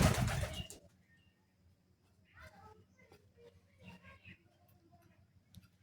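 Pigeons at a pigeon farm cooing softly in short low phrases after a loud rustling burst at the start, with faint ticking and murmured sounds in the background.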